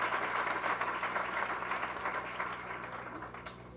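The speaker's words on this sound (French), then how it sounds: "Je vous demande de l'applaudir chaudement" Warm, sustained applause from a graduation ceremony audience honouring a graduate, dense clapping that stays loud and then eases slightly toward the end.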